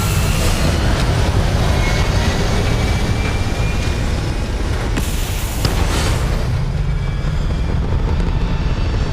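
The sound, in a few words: spaceship core thrusters firing, from the video game Starfield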